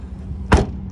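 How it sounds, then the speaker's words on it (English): The trunk lid of a 2021 Mitsubishi Mirage shuts with a single loud, close thud against quiet low background hum. "But let's close this trunk up."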